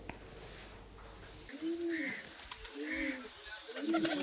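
Pigeons coo in soft, repeated throaty phrases, about three rounded calls over a low hum of background noise.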